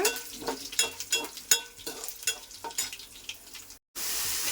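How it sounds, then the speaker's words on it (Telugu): Garlic and three dried red chillies fry in a hot pan, giving a steady sizzle with spoon scrapes and stirring clinks at an irregular rhythm, close by with no talk, then a brief gap and a louder hiss. "ఇంక ఎల్లుల్లిపాయ కూడా వేగింది. ఇంక ఎండుమిర్చి అయితే వేసేసాను, 3 ఎండుమిరపకాయలు అయితే. ఇంకా అవి అయితే వేపుకోవాలి బాగానా."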